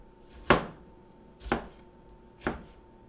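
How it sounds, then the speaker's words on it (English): A cleaver chops peeled fruit on a chopping block in three crisp, evenly spaced thuds about a second apart, close and alone in a quiet room. "Bring the other boys to the chopping block"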